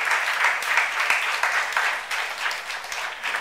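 Congregation applause during a church youth worship service, a steady wash of many hands clapping at moderate distance, sustained evenly throughout with no talking over it.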